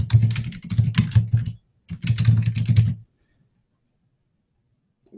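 Rapid keystrokes on a computer keyboard sound close and crisp in two bursts of typing, followed by near silence.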